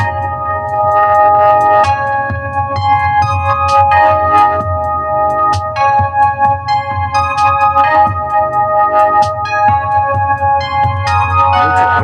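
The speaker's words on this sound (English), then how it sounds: "I'm going to boost my kick by turning up the boost knob" A trap beat with a boosted kick drum thumping deep under bright melodic synth notes and crisp percussion, playing loud and continuous with steady rhythmic hits.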